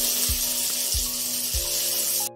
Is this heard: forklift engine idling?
no